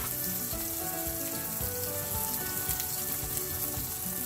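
Spice paste and cumin powder sizzle loudly with caramelized onions in a hot pan, a dense continuous crackle and hiss with faint stirring scrapes, no voices.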